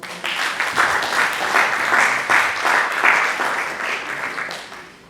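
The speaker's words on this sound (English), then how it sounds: "Please, a round of applause" A crowd at an annual energy symposium gives a round of applause, individual claps audible in a lively, even patter that tapers off near the end.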